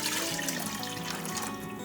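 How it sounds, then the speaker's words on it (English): Water poured into a vinegar-based dill pickle brine, a steady continuous trickling and splashing that stays close and fairly even throughout, with no talking. "then we're going to add water"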